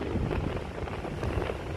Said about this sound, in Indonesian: anginnya buanter semeribit